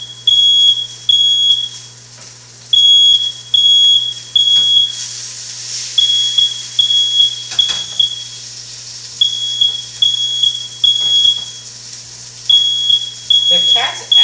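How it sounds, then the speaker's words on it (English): A smoke detector in a home kitchen sounds repeated bursts of shrill high beeps in a steady pulsing pattern, loud and close, with short gaps between groups, as a person talks faintly underneath. "The cats actually don't care about the smoke detector sound."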